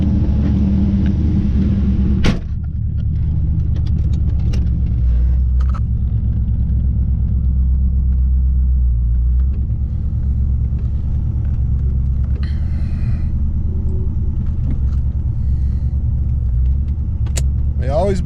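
A 1994 Corvette engine idles roughly after oxygen sensor replacement, a loud, close, low rumble that runs steadily throughout with slight unevenness, as someone talks over it.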